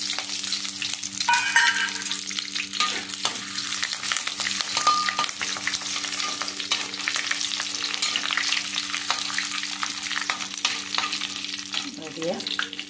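Urad dal and chana dal frying in a pan for hotel-style upma, a steady crackling sizzle with occasional stirring scrapes, close and continuous throughout.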